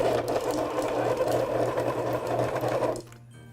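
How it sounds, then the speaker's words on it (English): Electric mixer running steadily as chocolate chips are folded into cookie batter, a continuous close whirring drone that cuts off near the end, with no talking. "So we're gonna put our mixer back on for, let's say, 30 to 45 seconds."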